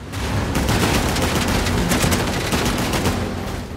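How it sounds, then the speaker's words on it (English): Dense, continuous rapid gunfire in the action video game Uncharted: The Lost Legacy during a driving chase, loud and unbroken with no talking. "It's all on Nadine to shoot these people."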